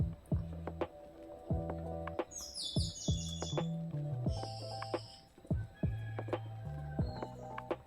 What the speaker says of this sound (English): The birds are chirping away already.